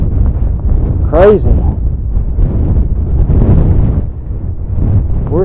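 Strong gusts of wind buffet the microphone on exposed sandstone rock formations at White Pocket, Arizona, a loud continuous rumbling roar that surges and dips, while a person talks briefly over it.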